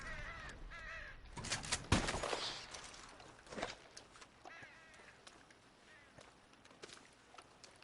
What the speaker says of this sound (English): I hear those crows, but I don't see them.